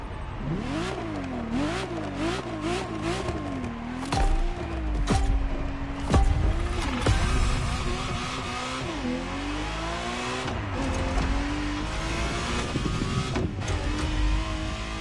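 A Ferrari Testarossa in the racing video game The Crew Motorfest, its engine revving and climbing through gears with repeated rises and drops in pitch, steady and loud throughout, with occasional tire squeal and no talk.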